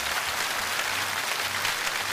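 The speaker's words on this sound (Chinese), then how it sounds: "大家的掌声代表着对您的祝贺和钦佩" A studio audience at a televised lecture program applauds with a steady, even wash of clapping from many hands, unbroken for the full couple of seconds.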